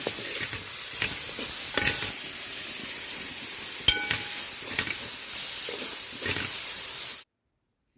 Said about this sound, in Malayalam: അതിനുശേഷം നമ്മൾ തക്കാളി ഇട്ട് കൊടുക്കുന്നു